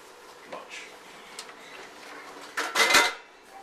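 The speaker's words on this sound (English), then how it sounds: "by deconstructing some of Mommy's pots and pans" A toddler takes apart pots and pans on a kitchen floor, giving scattered metallic clanks and knocks, with a louder cluster of clattering near the end.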